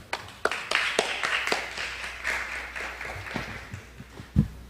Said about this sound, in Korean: 이 대표님을 큰 박수로 맞이해 주시기 바랍니다